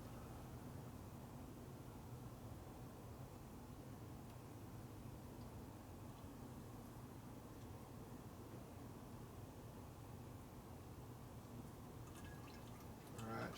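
Fork oil pours into the fork tube of a 1958 Harley-Davidson panhead 74ci during a rebuild, a steady soft trickle that goes on without a break and stays close, with no talk over it.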